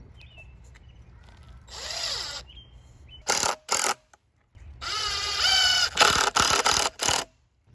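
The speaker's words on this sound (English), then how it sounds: "I'm going to put decking screws on top and bottom, and then screw the bracket on to this line" A power drill drives decking screws into a wall to mount a bike repair stand bracket, with several short whirring bursts separated by pauses, close and loud, plus small clicks of the bit.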